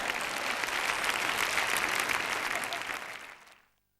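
Sustained applause from a church audience during a sermon, a dense steady wash of many hands clapping that carries evenly for over three seconds before fading quickly to silence.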